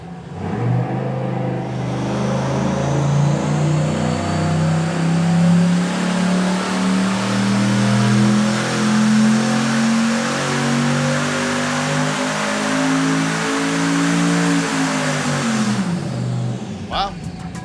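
A turbocharged LS V8 fitted with an Air Raid oiled element air filter runs loud and steady on a dyno, its deep drone climbing in pitch through a long sustained pull before cutting off near the end.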